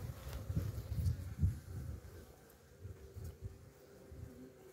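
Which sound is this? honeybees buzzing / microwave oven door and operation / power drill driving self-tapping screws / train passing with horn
honeybees buzzing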